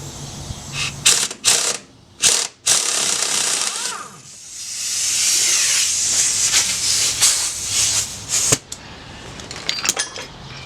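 Air tool working on strut bolts of a 2000 Chrysler Sebring, with loud bursts of rapid impact rattling, sharp pneumatic hissing of air in between, and a sustained hiss in the middle.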